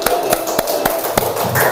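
Children in a classroom clap in a steady patterned beat, six or seven crisp, evenly spaced claps at close range with faint room noise between them.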